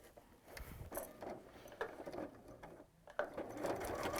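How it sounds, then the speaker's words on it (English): Sewing machine stitching two layers of quilt fabric and two layers of batting together, a fast whirring mechanical run with brief pauses and restarts, close and moderately quiet, with no talking. "So we've got 2 layers of your fabric here, and you've got 2 of your bosal, and the machine is coping really well with this."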